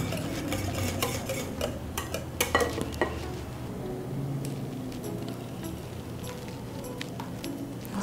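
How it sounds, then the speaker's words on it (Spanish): Pumpkin pie filling poured into a chilled crust and stirred, with steady scraping and soft clinks of utensil against bowl over several seconds, close and moderately loud, no talking. "Ahora vamos a verter el relleno"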